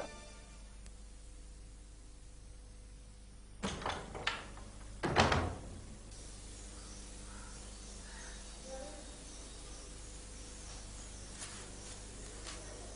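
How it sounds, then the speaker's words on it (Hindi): A door in an indoor room closes with two sharp, loud knocks a moment apart, the second a solid thud, after which steady low background hum continues with no talking. "दरवाजा बंद कर दो, बाहर खड़े रहो।"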